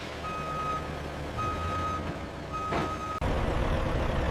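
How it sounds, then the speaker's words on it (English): Steady reversing beeps repeat in long tones with short gaps over a low rumbling engine as a forklift loads wrapped pallets onto trucks in a tissue paper warehouse, with an abrupt clunk near the end. "forklifts load the wrapped pallets onto trucks, ready for delivery to consumers"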